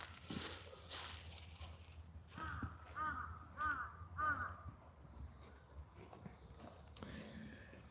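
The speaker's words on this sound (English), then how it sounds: "Oh, crow." A crow caws outdoors on a cold winter day in Tokyo, a series of four or five hoarse calls at moderate distance over faint street and footstep noise.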